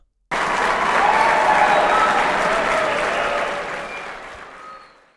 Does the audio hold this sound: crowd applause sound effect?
yes